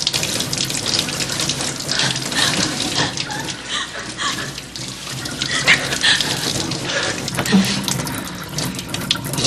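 Tap water runs steadily into a sink during washing, a continuous splashing gush with shifting spatter, close and fairly loud, with no voices over it.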